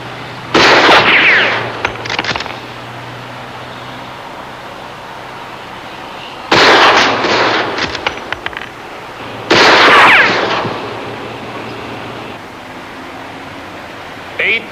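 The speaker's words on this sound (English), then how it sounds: "would you reperform the demonstration shooting for us?" Rifle shots fired in a courtroom shooting demonstration, three loud, sharp reports spaced several seconds apart, each trailing into an echoing decay, with a faint hum between them.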